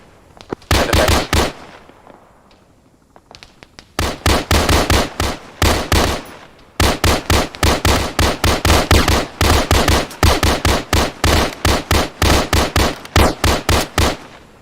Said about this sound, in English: Actually, we are in gunfire to our north over.